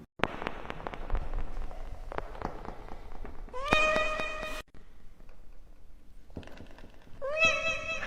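A cat gives two clear, loud meows spaced a few seconds apart, close by, with a background of scattered clicks and crackling noise.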